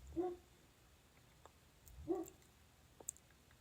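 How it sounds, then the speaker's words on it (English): A couple of short dog barks from outside, two distinct bursts about two seconds apart with a faint yelp between, heard at a distance over a quiet indoor room, no talking. "Excuse the dogs barking outside."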